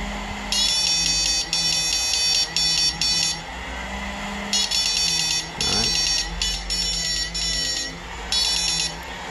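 A large 4FET electric fish stunner runs with a loud high-pitched whine that pulses in repeated bursts with brief gaps, close by, with a low hum underneath and a short burst of speech partway through.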